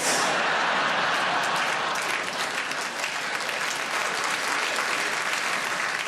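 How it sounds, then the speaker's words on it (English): Dense, continuous applause from a large theatre audience at the Royal Variety Performance, loud and steady throughout with no voices above it. "that's the applause of recognition"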